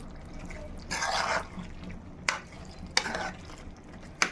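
Chicken pieces coated in chilli powder, coriander powder, cumin powder and garam masala fry in oil with a low steady sizzle, broken by a few stirring scrapes and sharp clinks of a spoon against the pan.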